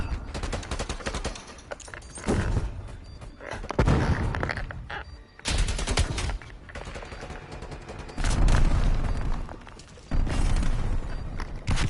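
A grenade explodes in a first-person shooter battle amid dense, continuous gunfire and machine-gun bursts. Heavy booms and thuds rise and fall in loud waves throughout.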